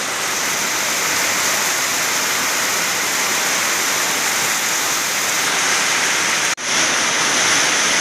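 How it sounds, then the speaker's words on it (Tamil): Heavy summer rain pours down in a dense, unbroken hiss that stays loud and close throughout, with a single brief dropout near the end. "பாருங்க, மழை பெய்துட்டு இருக்கு."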